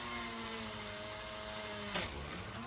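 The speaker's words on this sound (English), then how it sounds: "Now you're going to drill your hole." Small drill boring a hole through PC board on a model railway point, a steady high-pitched whine that holds for about two seconds before dropping as the bit breaks through.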